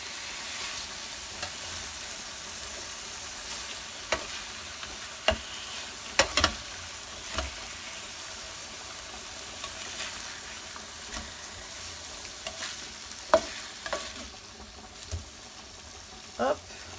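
Fish sears in a frying pan with a steady, moderately quiet sizzle, broken by scattered clicks and scrapes as the pan is handled.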